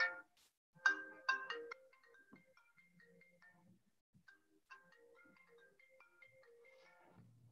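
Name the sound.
borrowed phone ringtone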